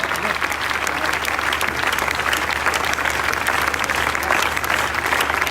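An audience at a worship revival festival claps loudly and steadily, a thick wash of applause that carries on without a break.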